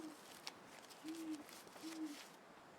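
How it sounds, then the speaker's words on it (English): Two low, deep owl hoots call out in the survival video game The Long Dark, each a short drawn-out tone, faint and distant over a quiet outdoor hush with a few small noises. "don't think I've ever heard a deep owl like that before"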